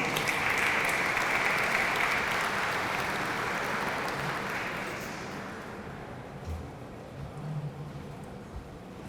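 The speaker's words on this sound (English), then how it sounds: "Let's give her a round of applause, please." An audience at a Hispanic Heritage Month opening ceremony applauds loudly and steadily, the clapping thinning and fading out over the last few seconds.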